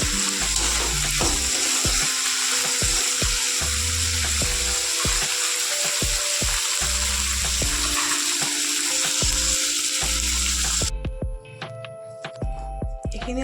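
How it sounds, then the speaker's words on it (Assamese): Chopped onions and peanuts fry in oil in a pan at medium heat, a close, continuous sizzle with clattering stirring that abruptly thins out near the end. "আৰু পিঁয়াজখিনি দিছোঁ। এইখিনি অলপ সময় ভাজি ল'ম।"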